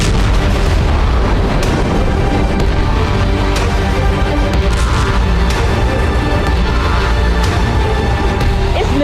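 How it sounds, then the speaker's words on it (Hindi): Launch of a US Army Minuteman nuclear missile, heard as a sustained loud roar with repeated booming bursts that keep the sound thick and unbroken throughout, no voices present. "अमेरिकी सेना ने वॉशिंगटन से पेचिंग तक मार करने वाली परमाणु मिसाइल मिनटमैन का टेस्ट किया है"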